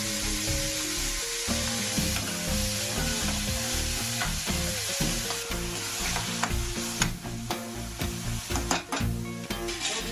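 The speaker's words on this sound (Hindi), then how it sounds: "छोड़ दीजिए, टमाटर पकने दीजिए।" Tomatoes cooking down in a pan, sizzling steadily with frequent stirring scrapes and clinks up close, while music plays underneath.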